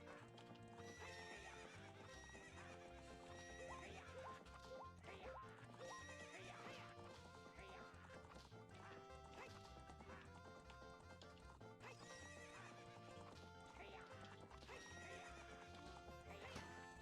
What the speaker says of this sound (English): What's up with that horse?